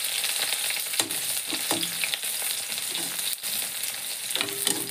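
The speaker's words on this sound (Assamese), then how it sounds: "পিঁয়াজখিনি মাত্ৰ অকণমান কেঁচা গোন্ধটো যোৱালৈকে মাত্ৰ অকণমানহে ভাজিম" Chopped onion and split cardamom pods fry steadily in a pan over a gas flame, a constant close sizzle broken by occasional stirring scrapes, with no talking.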